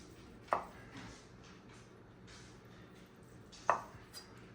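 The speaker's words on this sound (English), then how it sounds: "I'm gonna cut a very little bit off the end here." A knife slices through a rested reverse-seared picanha on a board, giving two sharp, close cutting strokes about three seconds apart against quiet room tone.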